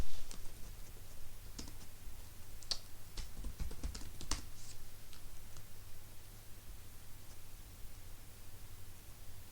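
A comment being typed on a computer keyboard: quick bursts of light key clicks for the first few seconds, then quiet hiss, close and soft.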